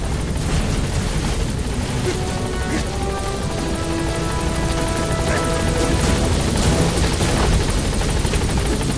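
A helicopter from the video game Metal Gear Solid V hovers at a landing zone, its loud, continuous rotor chop and engine drone filling the whole stretch without a break.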